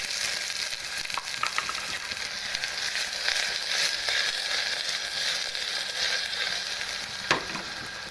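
Cumin, green chili, garlic and onion sizzle in hot oil as the base for dal, a loud, steady crackling fry with occasional sharper pops and faint stirring, continuous and close.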